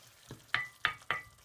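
Butternut squash stirred in a big pot, giving three sharp sizzling scrapes at an even pace after a softer first one, close and quiet with low frying hiss between strokes.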